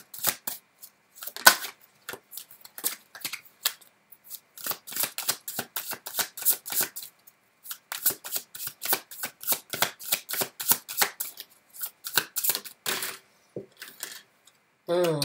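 Tarot cards being shuffled and riffled close up, in bursts of rapid papery flutters and snaps separated by short pauses, with no talking over them.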